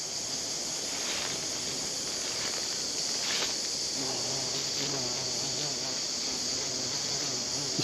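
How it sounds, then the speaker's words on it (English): A native solitary bee buzzes close by and continuously, a small droning hum against a constant high background hiss of outdoor insects in summer botanic gardens in Gladstone, Australia. "This would be one of our native solitary bees, non-hiving bee."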